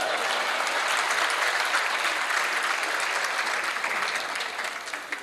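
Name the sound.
hall audience applause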